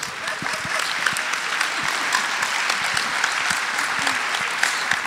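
An audience at a meeting with the animation director Rintarô applauds, dense steady clapping from a sizable crowd that holds at a strong, even level throughout.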